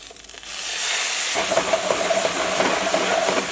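Tempeh glazing in teriyaki sauce in a pan turned down to low heat, a steady loud hiss that swells after a quiet start and keeps up with light crackles while the food is moved around.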